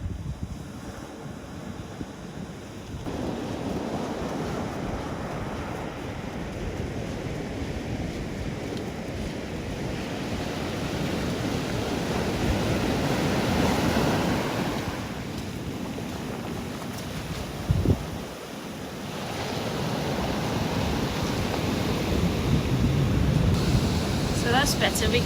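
Sea waves wash steadily onto the shingle beach at Charmouth (Stonebarrow), a continuous rushing surf mixed with gusty wind buffeting the microphone.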